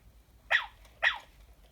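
A Sony Aibo ERS-1000 robot dog gives two short, bright electronic barks about half a second apart, close and clear against near silence.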